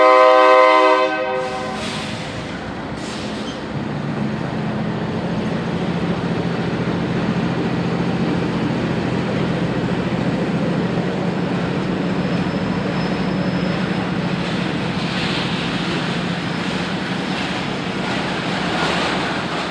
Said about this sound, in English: The westbound CF&E has just departed home rails and is now traversing the rails of the CSX Porter branch.